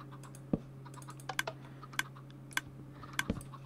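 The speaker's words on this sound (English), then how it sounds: "if you can hear the clicking, that is the dispenser shooting eggs against the other stone" A Minecraft redstone clock drives a dispenser that shoots eggs against stone, heard as sharp, quiet, irregular clicks over a low steady hum, a few per second with no voices.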